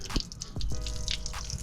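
Water runs from a hose fed by the water tank of a 2009 Ford Econoline mobile detailing van, splashing and gurgling into buckets, with steady close noise and a few drips.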